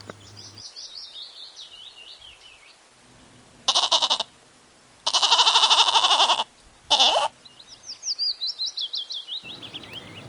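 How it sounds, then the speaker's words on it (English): Goat bleating in several loud bursts of varying length, set against steady bird chirping and tweeting in the background. "G for goat."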